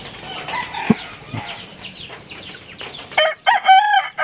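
Gamefowl chickens call and cluck in a pen with brief wing flaps, followed by a loud, close rooster crow near the end; no one speaks.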